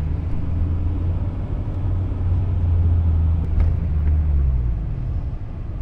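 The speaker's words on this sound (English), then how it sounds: "Dave's is still getting used to driving my car" A car cruises along a road with a steady, loud low engine and tyre rumble that holds throughout, easing off slightly near the end; no talk.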